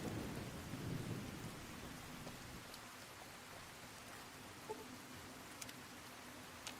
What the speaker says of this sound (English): this thunder is very loud